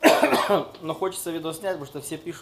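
A man who has not yet recovered from an illness gives a brief rough cough right at the start, then carries on talking.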